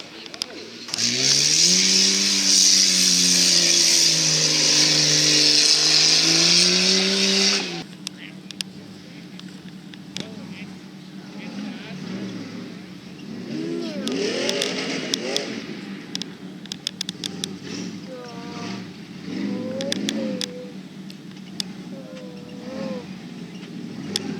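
A two-wheel-drive truck at a tuff truck event revs hard for about seven seconds with a loud, rising and falling engine roar, then cuts off. Crowd chatter and scattered voices follow over quieter background engine noise.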